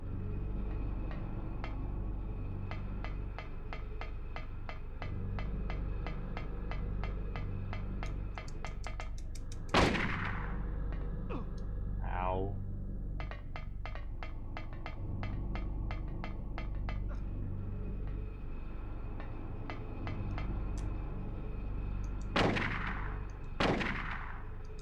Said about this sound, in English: Yo, stop fucking shooting!